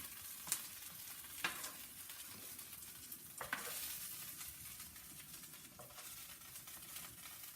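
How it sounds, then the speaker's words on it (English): Pieces of meat for bosanski lonac sear and crackle in a hot pan, a steady faint sizzle broken by a few sharp clicks and scrapes of handling, with no one talking. "Can you hear this searing and locking?"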